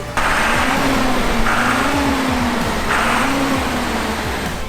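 A monster truck engine close by, starting up and revving in repeated rising surges with a rough low rumble, holding loud and steady as it moves off.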